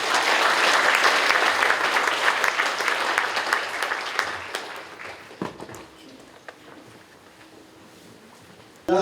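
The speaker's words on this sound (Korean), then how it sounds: "뜨거운 박수로 맞이해 주시기 바랍니다." A hall audience at a provincial budget lecture in Gyeongsangbuk-do applauds to welcome the lecturer. The clapping starts dense and loud, then thins to scattered claps and fades to near quiet.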